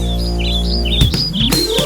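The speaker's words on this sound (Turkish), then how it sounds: "Aldım onları içeriye Cik cik cik ötsünler" Cartoon-like birds chirp in repeated high tweets within a Turkish children's song, steady and bright over sustained musical backing, with a couple of sharper bursts near the end.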